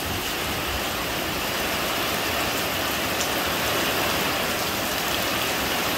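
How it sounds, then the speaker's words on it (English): Heavy rain pours down in a dense, loud, continuous hiss over a flooded field, steady and unbroken from start to finish with no voices. "Too much rain."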